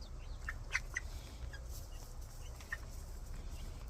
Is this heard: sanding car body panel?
no